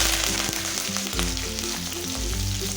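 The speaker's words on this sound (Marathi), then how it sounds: "आपली जिरी मोहरी छान अशी तडतडत आहे याचा आवाज पण छान असा येत आहे" Cumin and mustard seeds crackle and sizzle in hot oil as tempering for masala poha, a continuous frying hiss with sharp little pops, while music plays along underneath.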